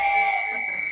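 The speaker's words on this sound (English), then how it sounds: "we will hit our buzzers" Electronic buzzer sounding in one steady, loud, close tone for just under a second, with no voices over it.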